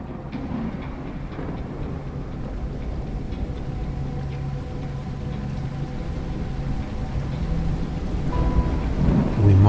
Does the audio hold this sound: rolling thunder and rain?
yes